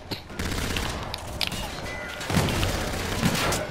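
Gunfire in the video game Call of Duty: Infinite Warfare, rapid bursts of shots with booming impacts, moderately loud and continuous across a few seconds, with faint talk underneath.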